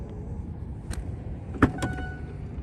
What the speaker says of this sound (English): Trunk opens.